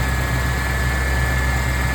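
A 1996 Ford F350 XLT truck engine with headers and 2-into-1 exhaust idles steadily and smoothly, a low constant rumble with a faint hum, close by and uninterrupted.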